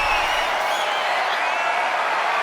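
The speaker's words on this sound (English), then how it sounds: "This capacity crowd is sending him love" A capacity arena crowd in a WWE wrestling video game roars with steady, dense cheering that fills the whole stretch without a break, loud and continuous, with no voices standing out.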